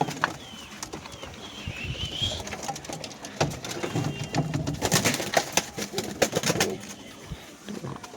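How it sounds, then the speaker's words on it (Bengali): Domestic pigeons, including a pure white one, coo in low soft rumbles, with some faint wing flutters and scattered background noises close by. "এই দেখুন পায়রা"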